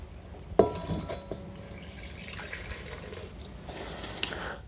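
Warm water poured from a glass into a bowl holding pizza dough ingredients; a sharp clink opens a thin, trickling pour that gurgles faintly for several seconds, with a small tap near the end.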